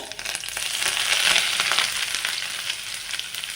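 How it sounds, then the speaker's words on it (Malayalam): A large onion, sliced lengthwise, hits hot coconut oil and sizzles loudly up close, the hiss swelling after a moment and holding steady with faint stirring scrapes and no talking. "ഒരു വലിയ സവാള നീളത്തിൽ മുറിച്ചെടുത്തിട്ടുണ്ട് അത് നമ്മൾക്ക് ചൂടായ ഒന്ന് ഇട്ട് കൊടുക്കാം പതുക്കെ വേണം ഇട്ട് കൊടുക്കാൻ"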